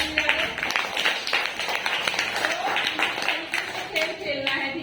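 Children in a classroom word game clap their hands together in a quick burst of sharp, overlapping claps that runs steadily throughout, mixed with voices talking.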